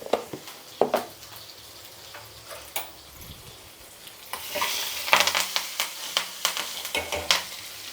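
Mustard seeds, green chillies and curry leaves tempering in hot oil: sizzling and crackling that grows louder partway through, with rapid sharp pops and spatters close by, no talking.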